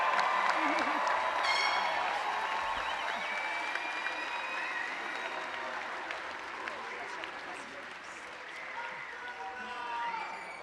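A commencement crowd at the La Salle Class of 2025 graduation ceremony applauds the graduating class, with sustained clapping and some cheering that stays steady and full before easing slightly, voices mixed into the wash of hands.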